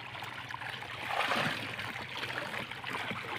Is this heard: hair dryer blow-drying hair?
no